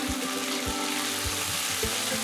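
Garlic and ginger fry in hot oil left over from browning beef in a stir-fry pan, a loud, close, constant sizzle with rhythmic low knocks of stirring.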